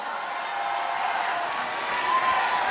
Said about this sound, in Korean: 우리 이재명 후보님께 뜨거운 박수로 화답합시다